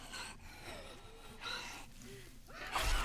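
A character in the video game 7 Days to Die breathes heavily in repeated gasping, panting breaths at a steady rhythm, fairly faint and close, with no talk.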